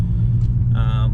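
Low, steady engine rumble from a Volkswagen GTI on a night test drive with a check engine light fault, a continuous close drone with a brief brighter whine near the end.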